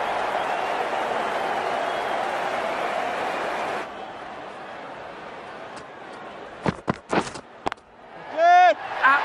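Stadium crowd applause in the Cricket 19 game, a broad sustained roar of clapping that drops in level partway through, followed by sharp bat and ball knocks and a voice near the end.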